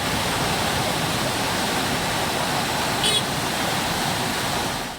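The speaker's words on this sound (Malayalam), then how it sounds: "ചുരത്തിനോട് ചേർന്നൊഴുകുന്ന അടിവാരം പൊട്ടിക്കൈപ്പുഴയിൽ മലവെള്ളപ്പാച്ചിൽ ഉണ്ടായി." A flash flood surges down the Potikkai river at Adivaram during very heavy rain, a dense, unbroken roar of rushing water that holds at a constant level with no voices.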